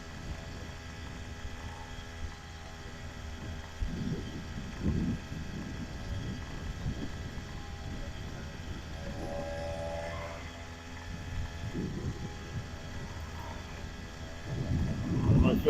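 Small two-stroke engine on a motorized bicycle drones steadily through a cold-weather ride at partial throttle, with harmonic engine tones, wind rumble and a rise in power near the end; someone speaks briefly over it.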